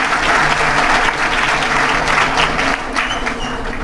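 A dinner event audience in a packed hall gives a loud, dense round of applause, steady throughout with many hands clapping at once and no talk over it.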